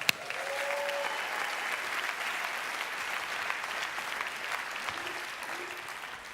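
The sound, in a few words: audience applause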